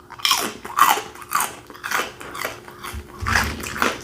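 Someone bites into onion rings, producing close, loud crunches in an uneven rhythm of about seven or eight bites and chews, with no talking.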